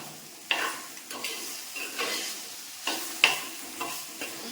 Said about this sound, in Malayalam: എന്നിട്ട് നമുക്ക് ഇതിലേക്ക് തക്കാളി ഇട്ട് കൊടുക്കാം അപ്പോൾ ഇത് കൂട്ടി ഇളക്കിയിട്ട്